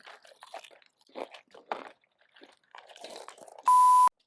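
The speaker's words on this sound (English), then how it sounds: "While you're munching on those, Claire" People crunch and chew a crunchy snack at close range in a string of separate bites with short pauses between them, and a loud electronic beep cuts in at the end.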